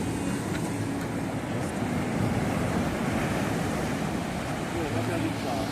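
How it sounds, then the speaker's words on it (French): Ocean waves wash steadily onto a Sri Lankan beach, a continuous broad rush of surf with wind noise and no distinct breaks, close and fairly loud throughout. "Quelques vagues, juste de quoi bien s'amuser."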